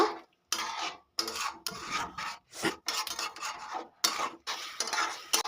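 Poppy seed paste being stirred into a pointed gourd curry with a utensil scraping the pan, repeated rasping strokes broken by short pauses, close and fairly loud with no talking.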